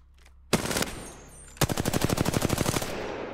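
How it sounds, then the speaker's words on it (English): Gunfire in the shooter game Apex Legends as the player fires one weapon, then switches to another. A loud single blast with a fading tail is followed by a rapid, even burst of automatic fire. "Shoot with one gun, switch to the other."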